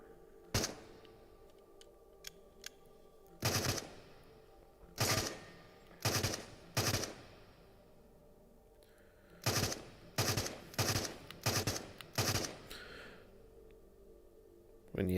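Gunfire in the video game Into the Radius: loud, close bursts of shots in short clusters separated by quiet gaps, some rapid strings of three or four, over a low ambient hum.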